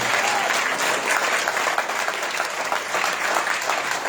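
Audience applause at a Republican gubernatorial candidate debate following a closing statement, steady dense clapping filling the room throughout with no speech over it.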